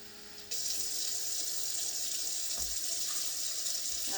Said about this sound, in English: So I'm using cold water.